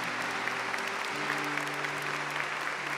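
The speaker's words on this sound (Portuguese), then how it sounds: "Pode ficar em pé, vamos aplaudir" A church congregation at a Catholic Mass claps steadily for mothers, a dense and even round of applause filling the room, with a low hum running underneath.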